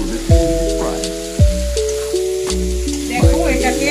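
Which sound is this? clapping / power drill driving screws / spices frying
spices frying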